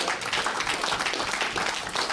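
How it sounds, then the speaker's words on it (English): Round of applause from the crowd at a Geelong Open grand final, a dense steady wash of many hands clapping for the whole stretch, fairly loud and with no talk over it. "I think a bit of a round of applause for all those people."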